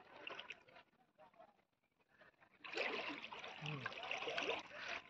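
River water waves lap and wash around a boat on the Dawki River near the Bangladesh border, a faint splashing that swells louder midway, with people talking quietly nearby.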